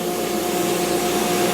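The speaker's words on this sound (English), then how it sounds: "First I'm just going to blast off as much corrosion as I can." Abrasive blasting with black diamond media stripping corrosion off an aluminum car wheel, a steady close hiss of rushing air and grit with no pauses.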